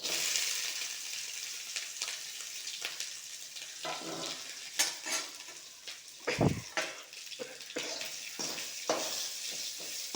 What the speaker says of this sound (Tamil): வதக்கி கடுகு பொரியிற சத்தெல்லாம் கேட்குதுங்களா உங்களுக்கு?